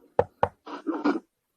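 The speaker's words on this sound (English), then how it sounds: "can you knock on the wood right there?" Two sharp knocks on wood, close and crisp, followed by a short stretch of low voices speaking.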